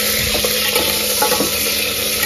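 Cut potatoes fry in hot oil in a pressure cooker for pulao, giving a loud, steady, close hiss of sizzling with faint stirring knocks underneath.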